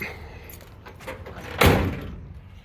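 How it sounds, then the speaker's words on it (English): A single solid slam of a Ram pickup truck's metal tailgate shutting, loud and close, following quieter rustling and clunks in an otherwise still outdoor space. "Let's put the tailgate up"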